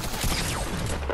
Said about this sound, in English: I hear them shooting, I hear them shooting.